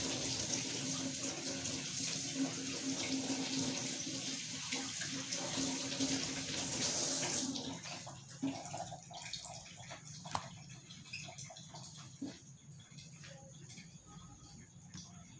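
Tap water runs steadily into a sink as squid is washed for fried squid, loud and continuous for about seven seconds, then cuts to quieter handling, scattered splashes and drips close by.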